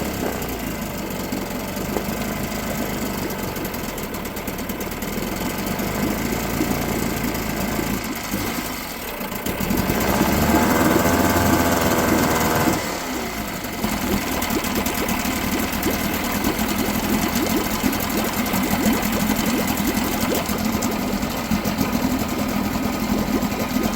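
A 1975 Mercury 7.5 hp outboard that sat unused for 30 years runs with a steady, buzzing, rattly drone, briefly dipping and then surging louder before settling back into a continuous idle.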